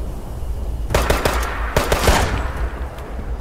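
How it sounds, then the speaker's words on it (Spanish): Bursts of gunfire in Fallout 76, a short cluster of sharp shots followed by a second volley, fairly distant and set against a low steady rumble. "¿Quién anda disparando allá?"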